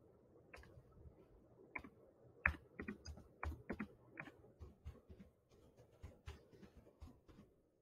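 Close, soft clatter of a computer keyboard as a question is typed, irregular bursts of keystrokes with short pauses, alone in a quiet room.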